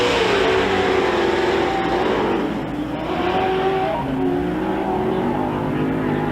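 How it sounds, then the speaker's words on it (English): Pro 2 short course off-road trucks roar off together at a race start at the SBC Fairgrounds, a loud continuous wall of engines with rising revs and overlapping tones close by. "No, we're going green flag racing this time by Ricky G, Mason Jr., and Jacobus."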